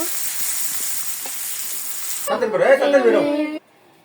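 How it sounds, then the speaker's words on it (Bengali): Spice-coated karkol (spiny gourd) fritters fry in a kadai with a steady, hissing sizzle for about two seconds. A person then speaks close to the microphone over a quieter background before the sound cuts off. "এই যে মশলা মাথায় মাথায় সব কড়াইতে দিয়ে দিলাম এখন শুধু আমি একটা একটা করে উল্টে দেব"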